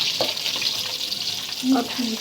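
Bata fish fries in an oily wok with a steady hiss, broken by a few brief clinks and scrapes from turning the fish.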